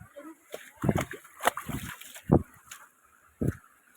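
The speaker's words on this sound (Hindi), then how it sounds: "भाई तो पानी में से जा रहे हैं होपफुली।" Splashing as people wade through water on an outdoor path, with several separate sloshing bursts at an uneven pace, close by and mixed with background voices.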